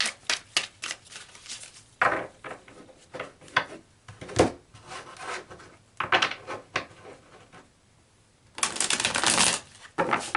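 Tarot cards are shuffled by hand in rapid riffling bursts and soft taps, close up, with short pauses between rounds.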